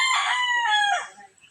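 A white-leg lemon gamecock rooster crows once, loud and close, its long harmonic call rising then falling before fading into quiet farmyard background.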